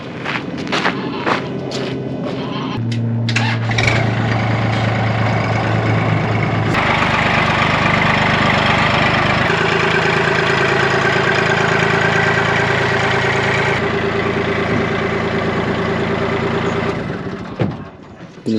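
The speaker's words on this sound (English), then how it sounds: "Alright, let's fire the tractor up." A tractor engine cranks and catches, then settles into a loud, steady rumbling idle close by for over ten seconds before shutting off, with some clatter and footsteps at the start.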